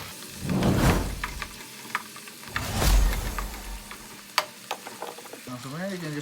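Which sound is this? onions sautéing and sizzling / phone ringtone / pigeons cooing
onions sautéing and sizzling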